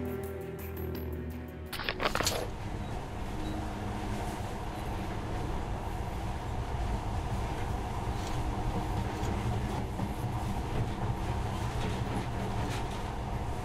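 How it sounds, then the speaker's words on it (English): A monorail in Metro Last Light starts up after a short quiet stretch, then runs with a steady, continuous rumble and rolling rattle, fairly close and unbroken throughout, with no talking. "this monorail seems magic, doesn't it?"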